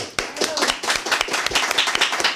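A small group claps hands in quick, uneven bursts, close and fairly loud, a short round of applause with no voices over it.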